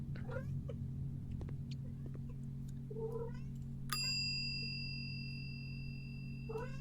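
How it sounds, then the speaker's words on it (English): A faint indoor cat meows softly under steady video-game music and a low hum, with a bright chime ringing out partway through. "I wonder if you can hear the cat."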